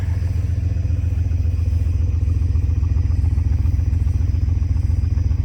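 A Volkswagen VR6 12v engine, freshly swapped into a Mk3 and still smoking heavily, idles steadily with a loud, even low rumble and light mechanical clatter, close by and without talk.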